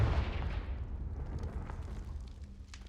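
A Confringo fire spell blast in Hogwarts Legacy, a heavy booming explosion that hits at once and decays with a rumbling tail over a few seconds.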